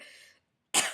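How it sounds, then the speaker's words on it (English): A deliberately exaggerated cough from someone with a cold, one loud harsh burst near the end after a faint breathy rasp and a short silence, heard close up. "the beginning of that cough was actually unintentional"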